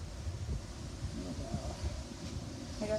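Strong outdoor wind on a windy day in a vegetable garden, buffeting the microphone with a loud, continuous low rumble and gusty roar, heard up close with no voices.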